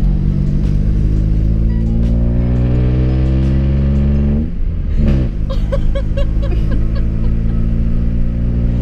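A car fitted with a Mirra aftermarket exhaust revs loudly and steadily, engine tone climbing through the RPMs, with a brief dip before a burst of crackling pops and bangs follows on the overrun, close and alone.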